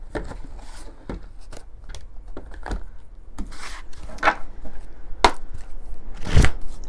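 Tarot cards are drawn and shuffled, making soft close riffling, flicking and tapping sounds in scattered irregular bursts over a faint background hiss, growing slightly busier toward the end.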